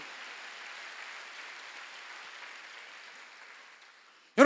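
A church congregation at a Wednesday worship service applauds in a steady, diffuse wash of clapping that fades slightly, then ends in a sudden loud burst.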